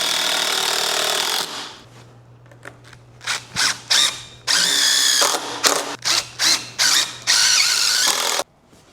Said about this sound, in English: I used a ratchet strap to pull them together.